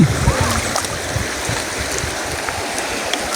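Cold river water rushes steadily and close during a river crossing in Sagada, a continuous broadband wash with faint voices underneath.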